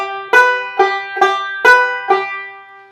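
Banjo picking a short phrase of Kansas City Railroad Blues in a two-finger roll, five bright plucked attacks with ringing decay, close and clear with no talking.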